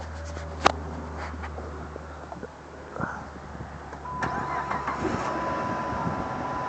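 A 2005 Dodge Magnum with a prior no-start condition cranks briefly and catches, then settles into a steady, close idle with a faint electrical whine running underneath.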